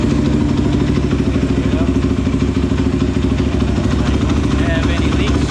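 A 2009 Kawasaki KFX450 ATV, just back together after a water pump rebuild, runs at a steady, loud idle close by, its rapid clattering engine pulse continuing evenly throughout.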